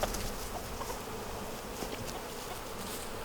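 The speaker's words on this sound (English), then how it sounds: "these bees are on me. They're mad at me." Dense, agitated buzzing of many angry honeybees swarming close by while a hive is worked for queen rearing, a steady droning hum with no pauses.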